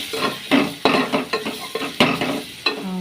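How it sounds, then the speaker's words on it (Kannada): Spices (chilli powder, Kashmiri red chilli powder, salt) and cooked green gram being stirred with coriander in a pan: repeated brisk spatula scrapes and clatters over a sizzle, close and rhythmic, with no speech. "ಇವಾಗ ಚೆನ್ನಾಗಿ ಮಿಕ್ಸ್ ಮಾಡ್ಕೊಳ್ಳೋಣ."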